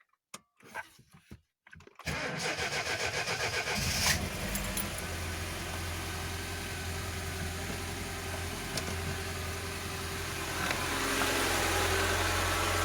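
A fuel-injected VAZ 2107 engine starts up close by after a few quiet clicks and key sounds, then settles into a steady idle, with the revs rising slightly near the end.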